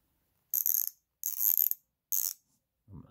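A Husky 3/8 drive ratchet clicks in three close bursts of rapid, crisp pawl ticks with short silences between them, followed by a soft low knock at the end.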